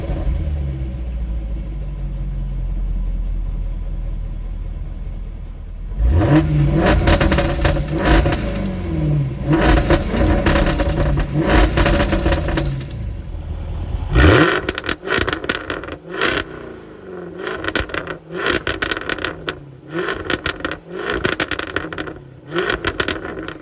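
Jaguar F-Type R supercharged V8 sits quiet before firing up with a loud bark, then revs repeatedly in sharp bursts, each roar climbing and falling back, with rapid crackling blips later, close and forceful.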